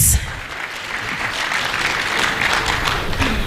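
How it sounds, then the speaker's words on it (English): A crowd at a national cooperatives conference gives the Director a round of applause, steady mid-loud clapping that swells after a brief opening thump and holds evenly throughout. "Let's give him a better round of applause."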